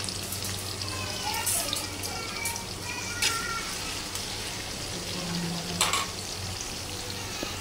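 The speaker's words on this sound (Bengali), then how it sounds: "দিয়ে দিলাম পেঁয়াজ" Onions fry in a large pot with a continuous crackling sizzle and occasional stirring clatter, loud and close throughout.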